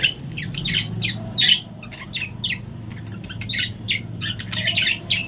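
A bird squawks near an oversized egg in its nest, giving loud, rapid, repeated harsh calls in uneven bursts, close and alone.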